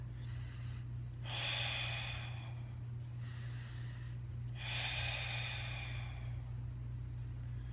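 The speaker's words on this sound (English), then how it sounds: "even doing that breathing technique right there" Slow, deliberate breathing shown as a technique, with two long inhales and exhales heard close up, each one a soft airy rush, over a steady low hum.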